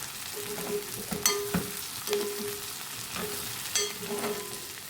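Crushed ginger and garlic sauté in a pan, a soft steady sizzle broken by several spoon taps and scrapes as they are stirred, with no voices.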